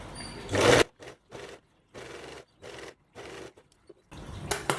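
A sewing machine stitches blouse lining in short bursts of rapid whirring, stopping and starting several times, close and clear with no talking.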